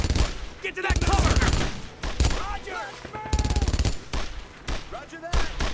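Sustained machine gun bursts in a WWII battle from Brothers in Arms, rapid loud rattling fire in long strings, broken by short pauses, with shouted voices and combat noise mixed in.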